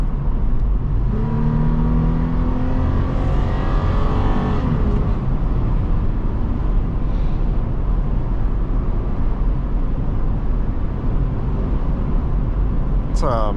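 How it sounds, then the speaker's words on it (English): A 2023 Toyota 4Runner TRD Off Road Premium drives along with a steady, loud engine and road drone throughout, while a voice talks briefly over it early on. "I really enjoy driving this car"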